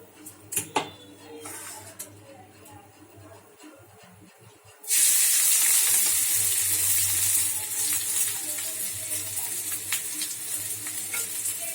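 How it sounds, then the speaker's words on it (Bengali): Potato and carrot frying in oil for soya chowmein, opening with a few clatters before a loud sizzling hiss bursts in midway and continues steadily up close. "আলুটা গাজরটা ভাজা ভাজা হয়ে এসছে"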